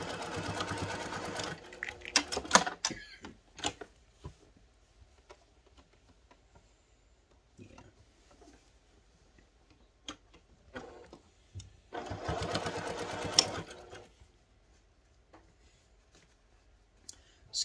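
A home sewing machine stitches through thick padsicle layers, running in two distinct bursts separated by a long stretch of quiet broken by scattered clicks and small handling noises, all fairly faint.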